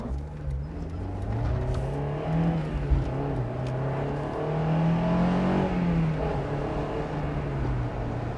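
A Honda S2000 AP1 convertible's engine revs while driving, the pitch climbing and falling in smooth sweeps over steady road and wind noise, heard from inside the car with no talking.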